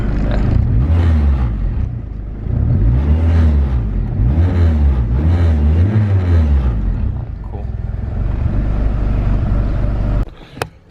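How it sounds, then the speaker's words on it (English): A turbocharged project car's engine idles and revs under load with a deep, steady rumble, the pitch swelling and falling in repeated waves as it pulls away, followed by a short sharp clatter near the end. "So just about to drive the car out."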